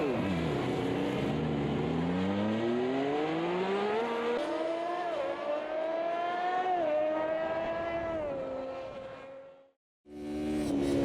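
A Williams Formula 1 car from a racing video game screams around the classic Hockenheim circuit, its engine loud and close, pitch climbing through the gears with brief dips at shifts before cutting out abruptly near the end, then resuming.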